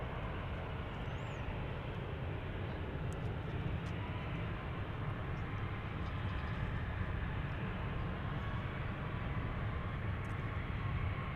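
A Boeing 787 Dreamliner jet at Dallas Fort Worth airport gives off a steady, broadband engine roar that holds at an even level from start to finish with no gaps.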